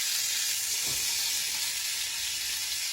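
Food sizzles steadily in a hot pan on a home stove, a fat piece left to cook on its side, giving a continuous crackling hiss at even volume throughout.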